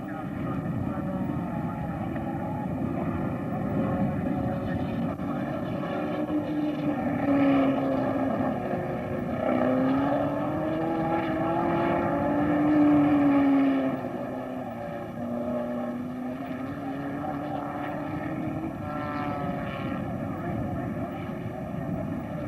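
Racing cars from 1963 circle the Australian Grand Prix circuit, their engines a continuous distant drone that swells and fades as cars pass, under steady crowd and track ambience and commentary.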